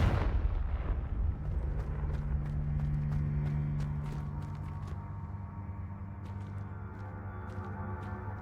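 A Confringo blasting spell in Hogwarts Legacy sets off a loud explosion that rumbles and slowly fades, followed by scattered faint crackles and small debris clicks.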